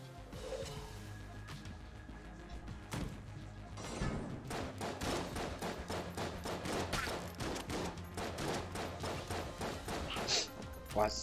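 Rapid bursts of gunfire in the roguelike shooter game Enter the Gungeon: sparse shots at first, then a dense, steady volley of loud hits and blasts, with a faint voice in places.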